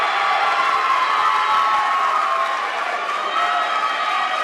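Audience at a college athletics awards ceremony applauds and cheers for nominees, a dense steady wash of clapping and shouting voices filling the room for the whole stretch.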